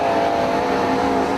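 A race car at Dixieland Speedway during Allstars qualifying roars loudly and steadily through turns three and four, the engine note droning close and unbroken.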